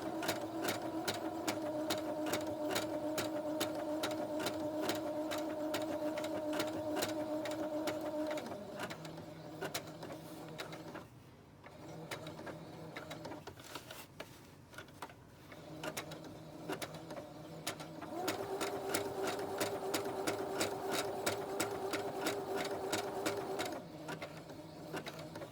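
A sewing machine stitches appliqué around a quilt block in a fast, steady mechanical patter, pausing briefly twice as the presser foot lifts to pivot at corners before resuming at full speed.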